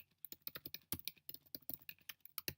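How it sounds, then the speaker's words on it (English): Rapid, crisp keystrokes on a computer keyboard, a dense run of quiet clicks with uneven rhythm and small pauses, close to the mic and heard alone. "I can now type that function in this mini buffer"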